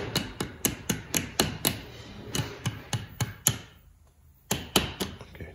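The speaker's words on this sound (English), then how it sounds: "bearing with the shaft back, and we can tap it back in." Hammer tapping a differential bearing and shaft back into a 1974 Triumph TR6, a steady series of sharp metallic knocks close by, a short pause, then three more blows.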